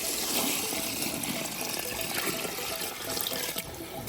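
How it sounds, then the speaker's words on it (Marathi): Water gushes steadily from a tap or jug onto 5 kg of wheat grain being soaked, a continuous loud splashing pour with no talk. "तर आता ह्याच्यामध्ये पाणी टाकून घ्यायचे"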